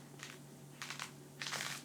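Knife slicing through a fennel bulb at its thickest part, hollowing it for stuffing: three short crisp crunching cuts close by, evenly spaced over a faint steady hum.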